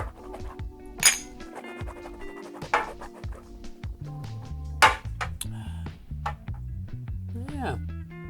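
Drinking glasses clink together in a cheers toast at a bottled-water taste test, with three sharp ringing chinks spaced a couple of seconds apart, close by and mixed with people chatting and laughing.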